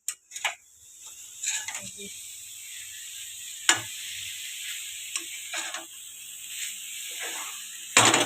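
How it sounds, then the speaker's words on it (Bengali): Grated coconut fries in a pan for a Poush Parbon pitha, giving a soft continuous sizzle with scattered scraping and clicking of a spatula against the pan, fairly quiet and close. "এবার নারকেল ভাজাটা কি অবস্থা দেখা যাক"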